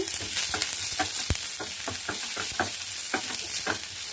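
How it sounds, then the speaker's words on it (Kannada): Onions frying in a pan for paneer rolls, an even close sizzle under a busy run of scraping and tapping spatula strokes, one sharp knock partway through. "ಸ್ವಲ್ಪ ಈರುಳ್ಳಿನೂ ಅಷ್ಟೇ 2 ನಿಮಿಷ ಫ್ರೈ ಆಗಬೇಕು."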